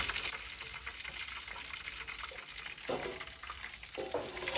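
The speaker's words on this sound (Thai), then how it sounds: "แล้วค่อยเอาไปลงน้ำมันนะครับ ร้อนๆนะครับ" Pork rind sizzles and crackles vigorously in hot oil in a pot, a dense continuous frying hiss with bursts of louder spattering, heard close with no talk.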